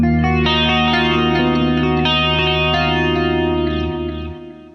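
Electric guitar through the chorus effect of a compact Valeton GP-5 multi-effect pedal, playing a few clean, shimmering sustained chords and notes that ring and decay close and clear, with no talking.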